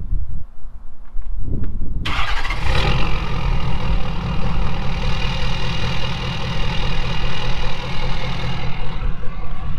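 Ford 6.7 Powerstroke diesel pickup with factory exhaust starting up after a brief crank, then settling into a loud, close, steady idle with a deep diesel rumble and clatter; no talk.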